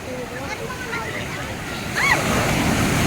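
Strong ocean waves crash at Tiwitiwi Beach in Legazpi, Albay, on a rainy day, a broad steady roar of surf that swells louder partway through, with a faint voice in the background.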